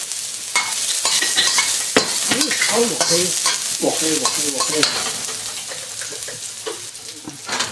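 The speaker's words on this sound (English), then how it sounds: "So now we're going to put in about a tablespoon of chopped ginger and garlic." Chopped ginger and garlic sizzle loudly in hot oil in a wok while being stirred, a steady close crackle broken by scraping strokes and short ringing tones from the spatula.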